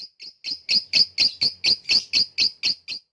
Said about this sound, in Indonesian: suara lovebird blorok cukup gacor